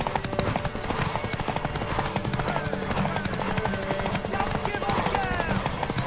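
A horse clip-clops at a steady, continuous pace in The Witcher 3: Wild Hunt, its hoofbeats dense and fairly close beneath a busy layer of game sound and background music.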